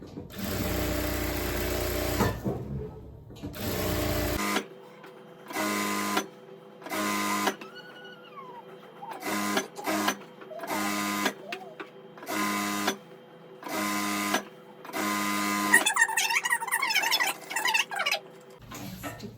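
A sewing machine stitches the 1.25-inch waistband of palazzo pants in repeated short, fast bursts of whirring, separated by pauses, close and fairly loud.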